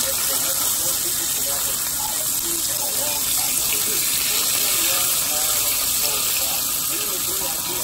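Smoked peppered bacon sizzling on a Rec Tec Matador griddle outdoors, a loud constant hissing crackle filling the whole stretch, with voices faintly talking beneath it.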